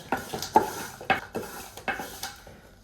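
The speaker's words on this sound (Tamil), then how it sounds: "அப்படி மாவோடே சேர்த்து நல்லா கிண்டி எடுத்துக்கலாங்க" A utensil scrapes and clinks against a pan as ragi flour is stirred with jaggery: about ten distinct knocks and scrapes in an uneven rhythm, close and clear, with no voices.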